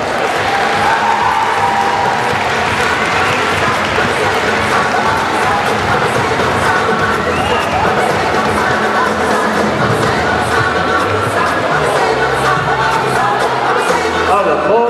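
A crowd at a youth football award ceremony in Sirmione applauds loudly and continuously, with cheering, whoops and voices mixed into the dense clapping throughout.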